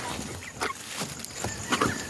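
Broiler chickens cluck and squawk in a busy, noisy coop, several birds calling at once with a louder burst of cackling near the end.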